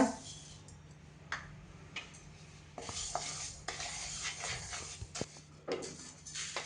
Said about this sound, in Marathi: आता हे तांदूळ भाजून घेऊया